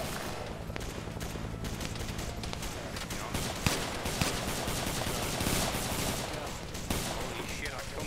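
Sustained gunfire from a Vietnam War combat video game raid on a boat, a dense, steady barrage of shots running throughout with bursts standing out, players talking faintly underneath.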